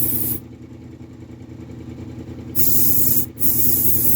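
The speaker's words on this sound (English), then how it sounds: "And I can come in here and I can spray all the way around really easily." Spray painting a large statue model, a loud continuous hiss of the spray can or airbrush, briefly paused once and then resuming, close and steady.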